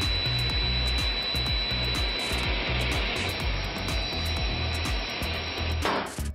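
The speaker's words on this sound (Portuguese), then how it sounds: "Veja essa incrível serra desenvolvida nos Estados Unidos." A table saw with a skin-sensing safety brake, developed in the United States, runs with a sustained high whine and rhythmic cutting scrapes. The sound is loud and close, and it winds down abruptly near the end.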